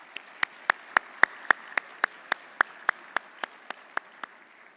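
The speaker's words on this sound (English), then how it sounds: "So give yourself a round of applause." A luncheon audience at a FIRST Championship Dean's List event applauds in a rhythmic, unison clap, about fifteen sharp, evenly spaced beats that start soft, swell and then taper off, with a faint murmur underneath.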